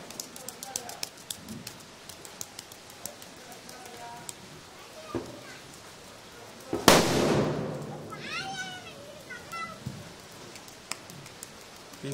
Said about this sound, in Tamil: மூணு பேரும் பட்டாசு போட்டுருக்காங்க.